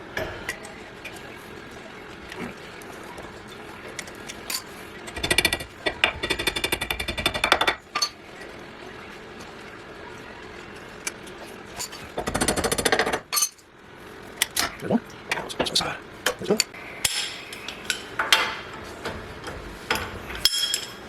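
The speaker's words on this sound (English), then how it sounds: "took about 5 minutes with a 3-pound dead blow hammer in order to get this broken loose" A 3-pound dead blow hammer striking a steering knuckle on the ball joints of a 2021 Jeep Wrangler JLUR, in dense bursts of sharp metallic blows separated by quieter stretches, close and loud with no talking.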